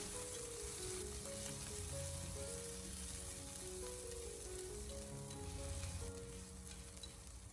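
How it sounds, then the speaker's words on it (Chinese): Shrimp heads and shredded ginger stir-fry in a little oil over low heat in a large clay pot, giving a continuous, even sizzle that holds steady and eases slightly toward the end. "开小火给它不停的翻炒一下，大概翻炒个1到2分钟，把虾头里面的虾油煸炒出来"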